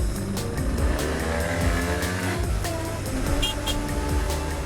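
A moped rides through the streets of Trieste, Italy, its small engine buzzing steadily and close up over busy traffic noise, with brief squeals and other passing vehicles mixed in.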